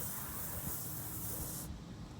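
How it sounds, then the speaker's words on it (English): Spray paint hissing from an aerosol can while marking lines on grass, a continuous close, steady hiss that cuts off abruptly near the end. "So I'm spraying these lines onto the ground here, which we'll be able to take a look at."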